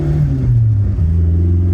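A Toyota AE86 GTS running a Haltech tune revs close by, its engine note climbing, dipping briefly and rising again in a loud, steady drone with no voices.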